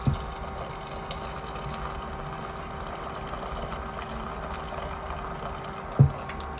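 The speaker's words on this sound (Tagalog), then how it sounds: "Tapos lagyan na natin ng mainit na tubig." Hot water is poured into a cooking pot of corn broth, a steady close liquid gush with a faint hum under it and a brief knock near the end.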